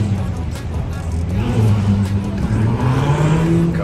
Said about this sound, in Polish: Kozak Ferrari.